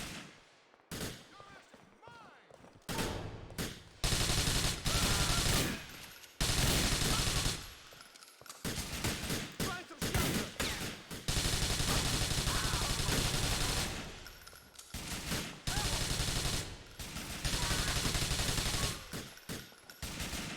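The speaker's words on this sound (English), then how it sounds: "You don't need to stay shooting at the same guys." Repeated bursts of automatic gunfire in Grand Theft Auto IV, loud clattering volleys that stop and restart over a long firefight, with a player's voice talking between some of the bursts.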